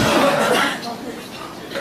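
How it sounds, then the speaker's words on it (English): Several people in a seated group cough together on cue during a breathing exercise at a health product demonstration, a cluster of overlapping coughs and chuckles that fades into murmuring. "Then cough."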